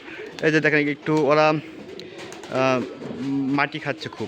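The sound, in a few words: pigeons cooing while eating soil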